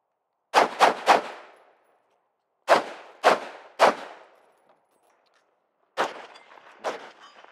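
Pistol shots crack out in a shooting drill on barrels: a quick group of three, another of three after a pause, then a final pair, each sharp and loud with a short ringing decay into quiet.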